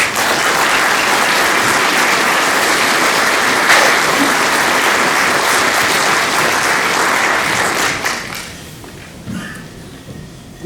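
An audience at a New Year's greetings address to residents bursts into loud, dense applause that holds steady for about eight seconds, then tapers off into scattered claps and quiet.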